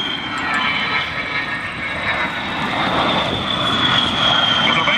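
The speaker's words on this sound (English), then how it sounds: "here comes our A-10 contingent coming back across" A-10 Warthog jets passing at the Selfridge ANGB airshow, a loud continuous engine roar with a high whine, holding steady and swelling slightly as the aircraft come back across, with no talk.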